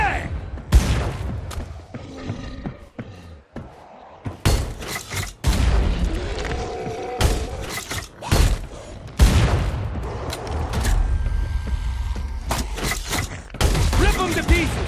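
Dense in-game gunfire from Killing Floor 2's Hell on Earth mode, with repeated loud shots, booming explosions and rapid bursts under excited voices.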